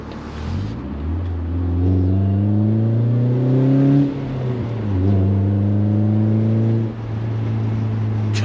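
A manual BMW Z3 sports car drives along backroads, its engine revving up through the gears in loud rising sweeps with brief dips at shift points, close and steady without talk.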